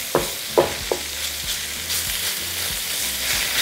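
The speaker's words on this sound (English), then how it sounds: "Add 1/2 of our meat, just until it gets nice and golden, or for about 2 minutes." Beef frying in a wok for a beef and broccoli stir fry, with a steady close sizzle and a few sharp clinks of stirring near the start.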